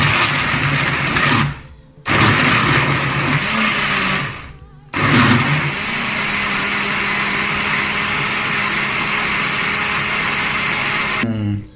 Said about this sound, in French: Et puis après je vais passer ça au mixeur qui est là.